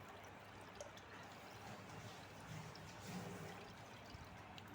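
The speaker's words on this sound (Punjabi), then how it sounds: "ਹੁਣ ਆਪਾਂ ਪਾਵਾਂਗੇ ਇਹਦੇ ਵਿੱਚ ਦੁੱਧ ਹੌਲੀ ਹੌਲੀ" Milk poured slowly into a sharbat mix over ice, a soft continuous liquid pour running steadily throughout with a faint trickle, fairly quiet and close.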